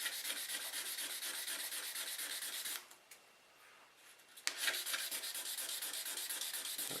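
Metal is hand sanded for jewelry making with fast, steady back-and-forth strokes that make a close, rhythmic scratchy rasp. The strokes stop for a brief pause midway, then the rasping resumes at the same pace.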